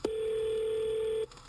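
A telephone tone sounds for a call back: one steady, clear beep held for over a second, then a click as it stops, with no talk.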